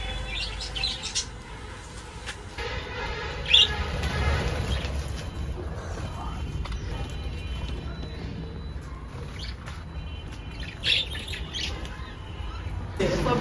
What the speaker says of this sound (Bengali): এখানে তো পাখি রয়েছে, বদ্রি পাখি